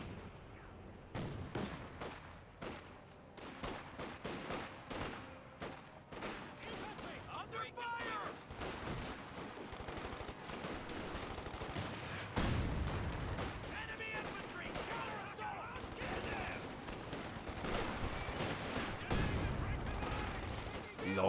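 Gunfire and machine guns in a WWII strategy video game match with riflemen, rifle grenades and a .50 cal, rapid bursts and scattered shots crackling continuously beneath a commentator's voice.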